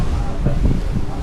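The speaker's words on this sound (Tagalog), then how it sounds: "Mahangin lang." Gusty wind during a Signal No. 1 tropical storm on Boracay, rumbling steadily and heavily into the microphone throughout a brief stretch with no clear voices.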